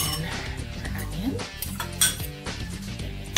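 Meatball ingredients, including an egg, being mixed in a bowl, heard as close, quiet scraping and clinking of a utensil against the dish in an irregular rhythm.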